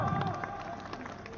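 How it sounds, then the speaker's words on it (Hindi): Brief burst of crowd applause and cheering at a public welcome for Yogi Adityanath, moderately loud clapping with mixed voices beneath. "अरे तालियां बजाओ"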